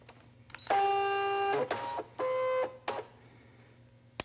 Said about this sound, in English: Then we're going to load it into the machine.